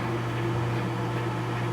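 A home microwave oven with a crisscross-patterned door runs steadily while heating a Peeps marshmallow candy, giving a constant low hum and whir, close and unchanging, with no voices.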